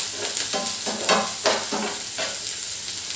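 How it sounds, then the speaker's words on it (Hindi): Onions with green chillies frying lightly in oil in a pan for chapati noodles, a steady bright sizzle punctuated by several soft stirring scrapes, close and moderate, without speech. "थोड़ा सा इसको हल्का सा तेल में भूनेंगे प्याज को"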